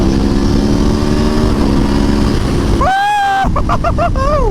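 A loud Aprilia Tuono V4 motorcycle engine with stock exhaust runs up close with a steady rumble, then revs with rising, climbing whines toward the end.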